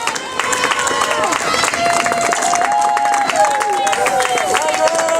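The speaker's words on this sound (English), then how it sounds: "Big round of applause." A crowd applauds and cheers continuously for a girls' high school soccer team, with a voice talking over the noise and some whistling rising through it.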